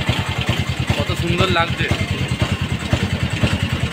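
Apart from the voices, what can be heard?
train locomotive engine running at station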